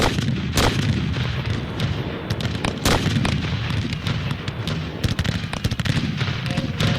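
Shells and rockets exploding in an artillery barrage at Fort McHenry during the War of 1812, with dense continuous rumbling booms and sharp cracks, heavy bursts near 0.6 and 2.9 seconds, loud and close throughout.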